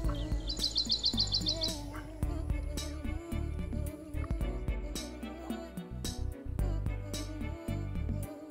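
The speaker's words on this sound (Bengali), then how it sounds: "সদ্য ঘুম থেকে ওঠা পাখির ডাক" Birds calling at dawn by Burudi Dam, a few chirps and trills above a steady, low rumbling background, fairly faint and somewhat distant.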